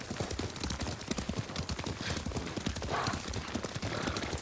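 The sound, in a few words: horse galloping hooves, video game Ghost of Tsushima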